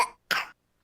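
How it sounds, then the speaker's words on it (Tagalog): A child coughs twice in a radio advertisement for a children's cough remedy, two short, dry, close bursts with a brief gap between them. "Ubo ng anak? Nakababahala?"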